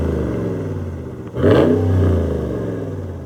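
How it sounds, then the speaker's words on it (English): A 2026 Ram 1500 Laramie HEMI V8 with sports exhaust burbles deeply at idle, then revs sharply once with a throaty exhaust roar before settling back into a low rumble. "it will come standard with a sports exhaust sound"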